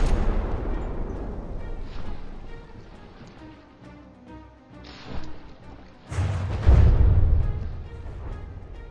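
Naval shells exploding under ships on depth fuses in the From the Depths video game, a run of muffled booms and rumbles, with a heavier deep blast near the end that fades into a rumbling tail.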